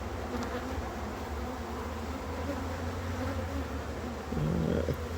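Honeybees swarm around an overpopulated beehive during a hive harvest, making a dense, steady, close-up buzz that holds for the whole stretch and swells slightly near the end, with no voices.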